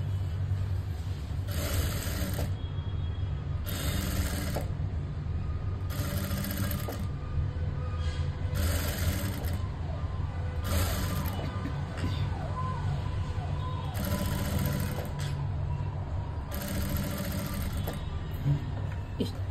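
A sewing machine stitches lining onto a ready-bordered blouse sleeve in repeated bursts of rapid mechanical whirring, close and loud, separated by short pauses, over a low background hum.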